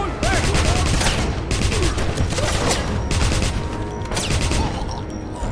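Sustained video game gunfire from Wolfenstein (2009): dense, loud bursts of rapid shots in rhythmic volleys, close and continuous for several seconds.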